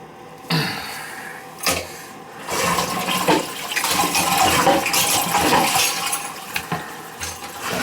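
A running toilet flushes and refills with water, a sharp clunk followed by a loud rushing, gurgling swirl that builds and carries on, with a few clinks scattered through it.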